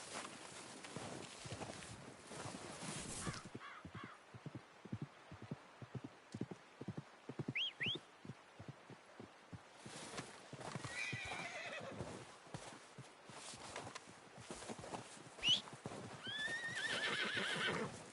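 Horses in the video game Red Dead Redemption 2 clop along steadily with close, even hoofbeats, while several whinnies and neighs rise over them, a couple of them near the end.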